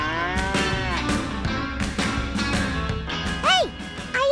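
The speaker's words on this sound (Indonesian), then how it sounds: "mau gembalain ribuan sapi yang ada di sini nih" A herd of cattle on a street parade moos repeatedly, with overlapping low calls and a busy outdoor background of steady noise and short higher sounds.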